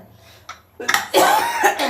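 A person with a heavy, persistent cough lets out a faint cough, then a run of loud, harsh, close-up coughs in a home kitchen.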